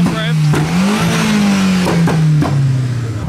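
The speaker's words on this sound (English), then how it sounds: "The Mark 1 S3 giving some revs." A modified Mark 1 Audi S3 revs in a car park, its engine note rising and falling through several throttle blips, loud and close with voices in the background.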